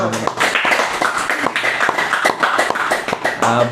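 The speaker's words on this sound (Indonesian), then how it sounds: "Tepuk tangan dulu dong." Audience at an Indonesian Islamic charity talk claps together, a dense, steady patter of many hands lasting the whole stretch, with a few murmuring voices underneath.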